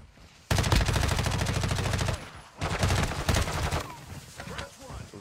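Bursts of automatic gunfire in Call of Duty: Warzone 2.0 come in two long, loud rapid volleys, followed by scattered shots and game effects.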